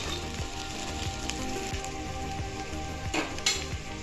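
Garlic-ginger paste sautés gently in a pan for veg pulao, giving a soft continuous sizzle with occasional light scrapes and clinks of a spoon.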